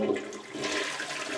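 A toilet flushes nearby, a brief rushing surge of water that holds steady and loud with no voices.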